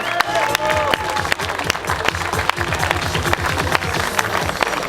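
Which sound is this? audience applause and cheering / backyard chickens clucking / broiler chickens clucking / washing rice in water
audience applause and cheering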